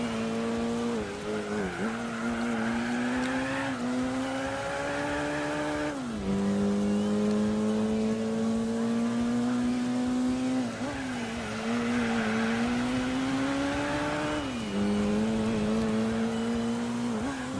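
Mitsubishi Mirage race car in Gran Turismo 4, engine droning loud and close as it revs through gear changes, with tire squeals through corners and no talking.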